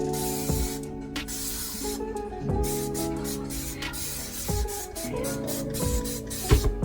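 Several short, sharp spritzes from a spray bottle of Dawn dish soap, spaced a second or two apart, over a steady tonal hum.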